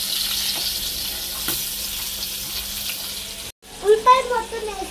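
Chopped onions fry in a pan with a continuous bright sizzle and a few soft stirring scrapes, then a brief gap followed by clattering kitchen sounds near the end.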